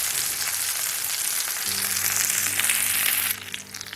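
Stone fish sizzles steadily on a hot tawa in a street-style fish fry, a loud, continuous bright hiss that softens near the end, with no talk.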